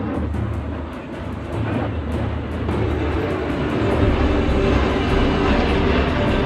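A steady, loud roar of a swept-wing jet fighter flying at an airshow fills the scene, a broad rumbling wash that swells slightly louder toward the end, with no voices.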